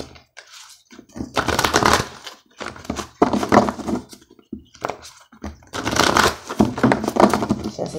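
Tarot cards shuffled by hand in three separate bursts of riffling and crisp flicking, close and fairly loud, with short pauses between them and no talking.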